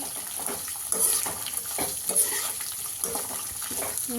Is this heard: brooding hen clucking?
no